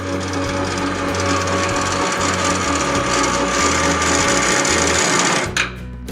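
An electric SpaceLift attic lift motor runs steadily and loudly with a mechanical whir and a rhythmic hum for about five and a half seconds. It then cuts off abruptly with a brief clunk, leaving near silence.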